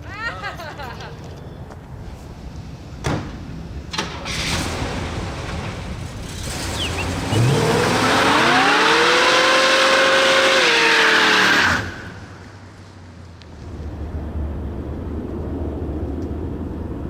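A 1970 Chevelle with a freshly rebuilt Turbo 400 transmission revs up and spins its tires in a loud burnout, with rising engine pitch and tire squeal lasting several seconds before the car settles back to idle.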